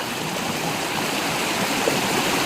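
A creek streams steadily with a constant, close, broadband wash of running water and no pauses or other sounds.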